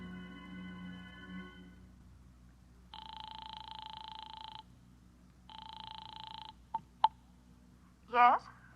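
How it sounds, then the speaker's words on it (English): Telephone dialing in a phone booth as a radio drama sound effect: two long tone bursts followed by a couple of short clicks, played cleanly with no one talking, before a brief voice at the end. "I beat it to the nearest phone booth and called Howard Wilcox's home"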